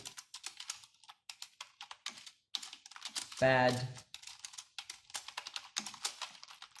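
Rapid keystrokes clatter on a computer keyboard while a firewall rule name is typed, crisp clicks in uneven bursts with brief pauses and one louder muffled thump midway.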